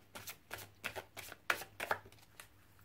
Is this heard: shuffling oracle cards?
yes